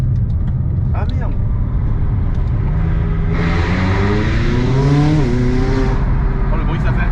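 Audi R8 V10 running on ethanol, tuned to about 600 hp, with a carbon chassis: the engine rises through a loud, climbing rev with clear harmonic sweeps, then settles, while people talk over and around it.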